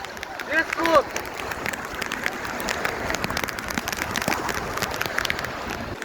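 Heavy rain and gusty wind lash down during a storm at Patul bil in Natore, a steady dense roar of drops close by, with a brief human voice near the start.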